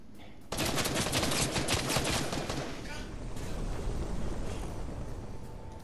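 A shooting video game erupts into dense, rapid gunfire and explosions that start abruptly and then continue as a loud, sustained barrage.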